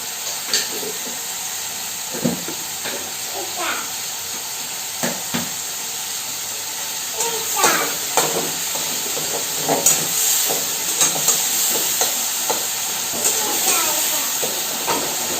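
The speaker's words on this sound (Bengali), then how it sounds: "টমেটোটা আমার ভাজা হয়ে গেছে" Tomatoes fry in a pan with a constant, close steamy hiss. Scattered clicks and sputters from cooking sound over it.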